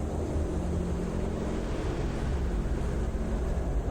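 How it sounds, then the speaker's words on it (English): A steady, loud wash of noise resembling rolling waves or wind in the snowy video game Kholat, continuous and unbroken with no talk over it. "They sound like waves almost, but there can't be waves."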